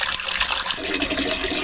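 Tap water runs steadily into a cooking pan during outdoor Filipino Sunday lunch prep, a continuous close pour whose tone shifts partway as the pan fills.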